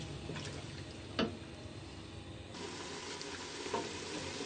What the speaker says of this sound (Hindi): जब तक इसका पानी खुश्क ना हो जाए तब तक हम इसको भूनेंगे।